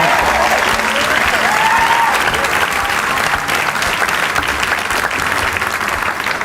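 A studio audience at the Survivor South Africa finale gives a loud, sustained round of applause with scattered cheering, the clapping dense and unbroken throughout.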